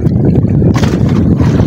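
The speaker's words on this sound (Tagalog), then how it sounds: "Maharurot na yung hangin." Strong wind roars and buffets the microphone at sea, loud and blustery over a low boat rumble.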